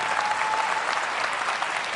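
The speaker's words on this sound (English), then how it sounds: "good, I got applause." Steady applause from a crowd, many hands clapping continuously at moderate volume, heard from a distance in a large room.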